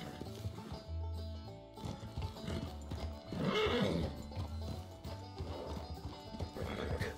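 A horse in a video game gallops with rhythmic clip-clop hoofbeats and lets out loud whinnies and neighs, layered over low game sounds and music, close and prominent.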